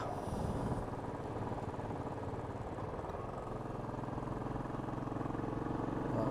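A Royal Enfield Classic 350 or Bullet 500 motorcycle engine drones steadily under wind noise, its pitch shifting as it drops through gears, heard close from the rider's position with the visor open.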